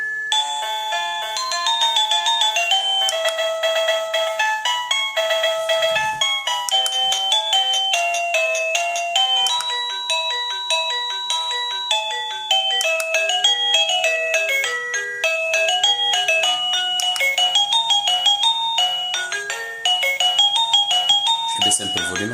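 Avantek / Jerrybox DT52 wireless doorbell cycling through its melodies, bright electronic chime tunes played one after another, loud and clear with no talk.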